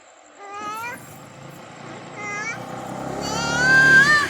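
A cat meows a few times outdoors in front of a house in the evening, the rising cries fairly close, with children's voices and chatter around it.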